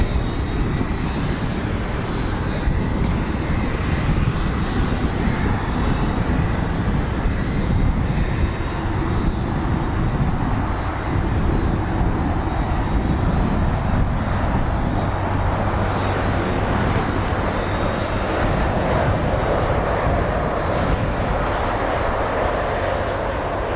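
A Red Arrows jet departing at RAF Waddington makes a loud, continuous roar that holds steady for over twenty seconds with no voices over it.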